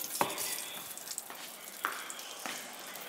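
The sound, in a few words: banana fritters (pazhampori) frying in hot oil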